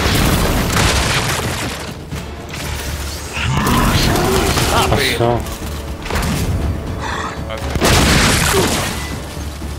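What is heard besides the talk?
Dropshot weapon firing and exploding in the video game Gears 5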